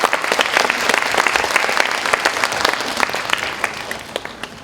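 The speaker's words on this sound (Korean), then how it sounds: "박수 한번 부탁드리겠습니다" A congregation at a Korean church worship service breaks into warm, dense applause, many hands clapping continuously and close, swelling then tapering off near the end.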